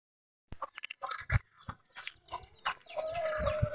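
Red jungle fowl roosters make several short, close clucks and rough calls with scattered bursts, and a brief higher tonal call near the end, with no talk over them.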